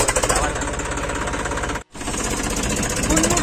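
A tractor engine chugs loudly and close with a steady rapid knocking rhythm as it drives to a rain-soaked field carrying paddy and fertilizer, cutting out briefly before resuming.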